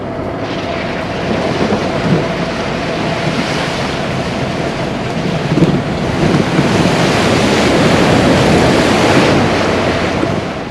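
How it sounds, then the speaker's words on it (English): Deep water splashing over the front bumper of a vehicle on an off-road ride through Spain, heard as a loud, steady rushing wash mixed with heavy wind roar that swells toward the end, with no talking. "the red of the water splashing over the front of the bumper"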